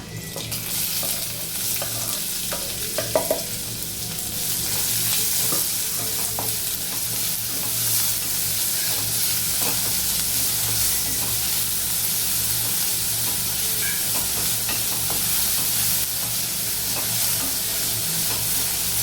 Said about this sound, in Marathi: असं ब्राउनिश थोडासा कलर आला पाहिजे कांद्याला, तर चांगल्या पद्धतीने असं परतून घ्या